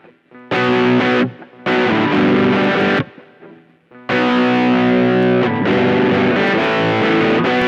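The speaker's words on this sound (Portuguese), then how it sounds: "Colocar pouco reverb, né? Só pra dar aquela ambiência primeiro." Electric guitar played through a digital multi-effects pedalboard with a little reverb added: three loud strummed chord passages, each sustained for a second or more, separated by brief near-silent gaps, with no talking.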